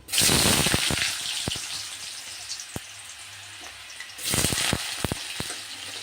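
Potatoes dropped into hot oil tempered with bay leaf for ghugni, giving a loud broadband sizzle with sharp crackles, a burst of fresh spitting around the middle of the clip, close and without talk.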